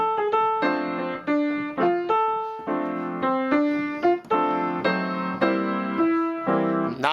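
On piano, a tune is played with block chords in the left hand and the melody in the right, as a steady series of struck notes and chords that ring clearly with no voice over them.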